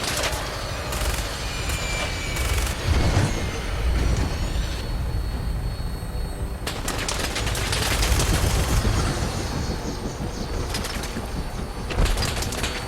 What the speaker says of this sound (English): There's the people shooting at me.